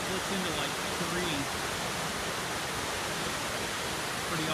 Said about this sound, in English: Got a little better view of that waterfall. Still kind of hidden. It's kind of cool. It splits into like three.